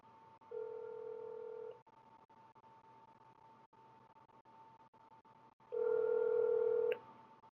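A phone call's ringback tone plays over a faint line hiss, two steady electronic ring bursts about a second long separated by a few seconds of quiet.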